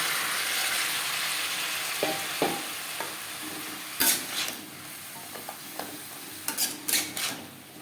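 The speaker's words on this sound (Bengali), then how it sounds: "পেঁপের সাথে ডাঁটা 2-3 মিনিট নাড়াচাড়া করে নেওয়ার পর দিয়ে দেবো পটল আর বরবটি।" Papaya and vegetable stems fry in a pan with a continuous soft sizzle, punctuated by scattered scrapes and knocks of a spatula as they are stirred.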